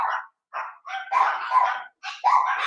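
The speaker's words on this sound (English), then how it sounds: "I'm sorry about the dogs." Several dogs bark in short, uneven bursts close by, with sharp yips and overlapping barks and brief quiet gaps between them, and no voices.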